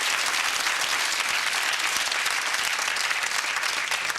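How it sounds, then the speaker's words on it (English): A studio audience on a 1997 TV game show applauds in a dense, even wash of clapping that holds at a constant level throughout, with no voices breaking through. "Give them a round of applause."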